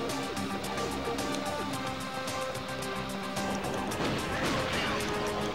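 Explosions and crashing debris from the Blast Corps video game, a dense continuous barrage of blasts and smashing with faint screams mixed in, steady and moderately quiet throughout.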